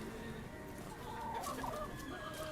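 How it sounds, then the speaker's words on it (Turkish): Chickens cluck in short, scattered bursts against a steady outdoor background in Kaytazdere, Altınova, Yalova, Turkey, moderately close and fairly quiet. "Bunlar da tavuklarımız"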